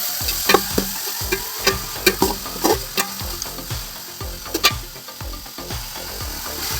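Crushed shallots sautéing for beef biryani, a loud close sizzle broken by a steady run of sharp scraping strokes from a spoon stirring against the pan, repeating about twice a second, with no voices.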